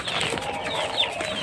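Hens and roosters in a flock of around twenty-five cluck softly and steadily nearby, a brief, continuous murmur of fowl calls with one sharper note.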